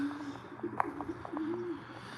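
Racing pigeons just released from their loft on a morning flight give soft, repeated cooing close by, with one sharp tap and a few faint chirps in quiet outdoor air.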